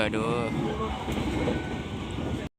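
KA Motis Nataru train rolling along the rails, a loud continuous rumble with rattling carriage noise, heard close from inside, ending abruptly.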